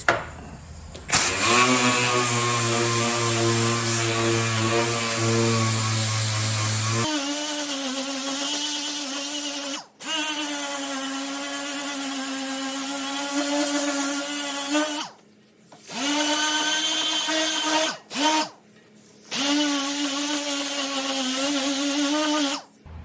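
An 80-grit disc grinding rust on an Early Bronco during restoration, a loud, steady, high whine of a power grinder running continuously with a few brief cuts in the motor, close up.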